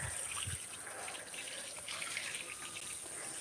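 Steady hose water pours over feet in a home garden, a continuous broadband splash and trickle with no speech over it.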